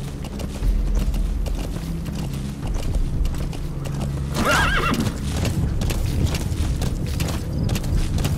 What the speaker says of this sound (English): I don't know if there's a way to call my horse to do it.